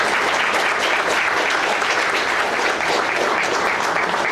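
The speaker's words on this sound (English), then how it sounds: "Thank you for a round of applause." Loud, steady audience applause after a talk at an advertising speaker event, a dense wash of clapping from a full room, continuous and alone without voices.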